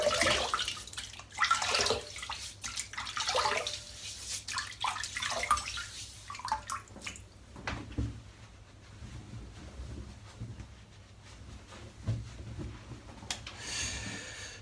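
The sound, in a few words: water wetting a head before shaving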